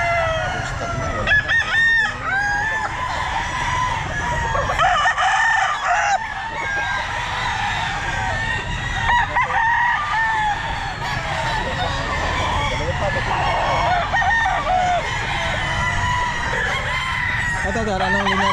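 Roosters and stags crow repeatedly at an outdoor Sunday pet market in Pangasinan, with clucking fowl and a busy crowd, the crows rising over continuous nearby conversation.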